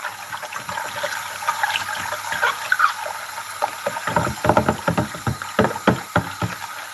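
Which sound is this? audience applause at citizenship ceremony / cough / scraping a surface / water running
water running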